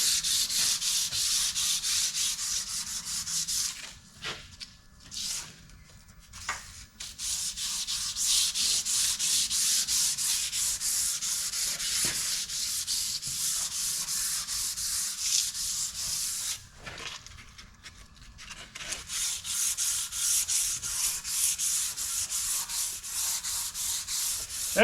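Light abrasive rubbing on worn lathe ways of a Herron K24 lathe, the abrasive backed by a flat piece of tool steel; a steady, close hiss of back-and-forth strokes runs continuously with a couple of brief pauses, no talking.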